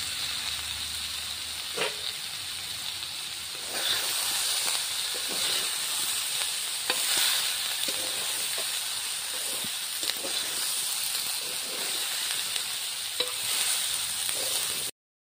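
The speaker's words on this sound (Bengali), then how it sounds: "দেখো এবার এর মধ্যে বেগুন দিয়ে দেবো।" Eggplant pieces frying in hot oil in a pan for a Bengali-style banana flower curry, a steady close hiss and sizzle with faint stirring clicks, louder after the vegetables go in, with no voices.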